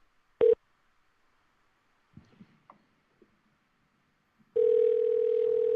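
Telephone call tone: a short beep, then a few faint clicks and knocks, followed by a loud steady dial tone that holds to the end, with no voices heard.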